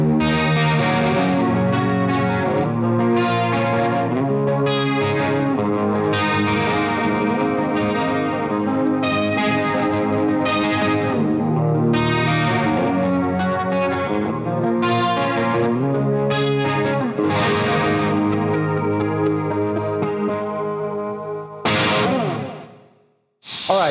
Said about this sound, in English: next up we have the chorus.